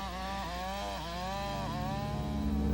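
Chainsaws whine and rev while cutting through thick trees for pulp in a lush Alaskan forest on Admiralty Island, the pitch rising and dipping as the saws bite, steady and fairly distant, alone without talk.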